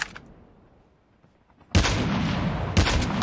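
Gunfire in Call of Duty Mobile battle royale: after a quiet stretch, a loud burst of shots erupts and keeps going, with a second sharp blast punching in about a second later.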